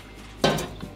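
A cooking pot of water with fish heads set down on a stove, giving one short clattering metal knock followed by a faint second touch, close up with no talk.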